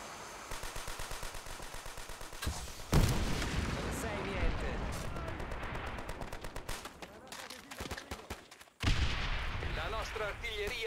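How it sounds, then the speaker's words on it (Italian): Artillery fire in the World War II shooter Call of Duty: World at War, repeated booms and rapid gunfire bursts blending into a loud, continuous battle din, with a voice speaking over parts of it. "L'artiglieria li farà vacillare."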